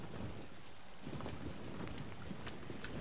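Rain pouring into a leaky house in the survival game The Forest, a constant hissing patter of drops with scattered sharper drips and a faint low rumble, no one talking.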